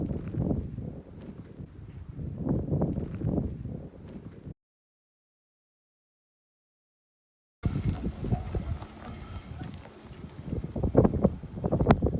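Gusty wind outdoors beside a shed rumbles and buffets loudly in uneven surges, cutting out completely for a few seconds midway before roaring back.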